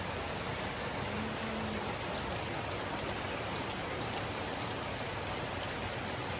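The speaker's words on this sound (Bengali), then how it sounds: "আজকে বেশ সকাল থেকে বৃষ্টি শুরু হয়েছে" Steady, dense rain pours down continuously, a constant hiss with no pauses and no voices.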